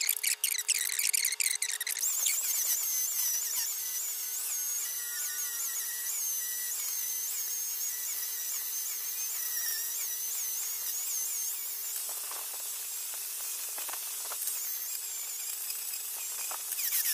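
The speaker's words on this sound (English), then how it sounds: "I'm going to grab a grinder. I got to clean that off" A high-pitched, whining angle grinder runs continuously, grinding down a weld on metal, harsh and steady, with brief changes in pitch and scraping as it bites in.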